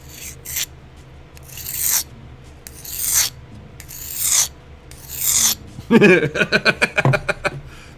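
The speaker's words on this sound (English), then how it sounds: "Sharpening of a knife." A knife being sharpened with a series of rasping strokes, about five drawn-out scrapes followed by a quick run of short rhythmic strokes, close and fairly loud.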